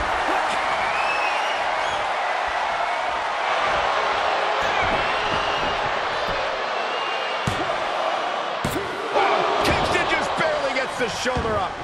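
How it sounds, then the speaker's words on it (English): A wrestling arena crowd in the video game WWE 2K23 roars steadily throughout, with occasional sharp thuds and bursts of louder cheering, while a commentator talks over it. "Look at this crowd. It's insanity in here. Bedlam."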